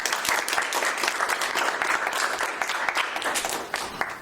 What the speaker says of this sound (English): we generally applaud the completion of something